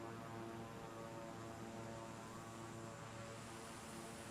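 Steady propeller airplane engine drone in Microsoft Flight Simulator during a low flyover, a continuous even hum with no speech over it.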